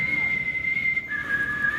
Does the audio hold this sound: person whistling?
yes